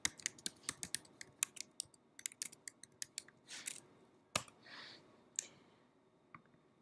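Typing on a computer keyboard into a search box: a quick, uneven run of crisp, close key clicks with short pauses, ending in a few isolated taps.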